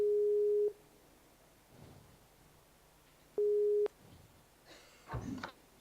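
Two long steady electronic ring tones from an unanswered video call sound with a pause between them, then a soft muffled bump and rustle close by, in a quiet room.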